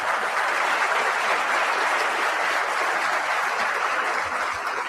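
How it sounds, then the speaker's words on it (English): An audience at a commercial real estate business forum gives Chris a round of applause, an even, sustained wash of many hands clapping, heard at moderate distance without talk. "Give Chris one big round of applause finally here."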